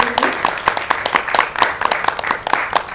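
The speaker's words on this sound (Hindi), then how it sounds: "जोरदार तालियां होगी" An audience applauding writer Mohammad Anwar Baig at a stage event, steady close clapping from a modest crowd throughout.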